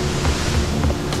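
Waterfall inside a cave in Guatemala, a steady broadband rush of falling water that fills the whole clip at an even, fairly loud level with no voices.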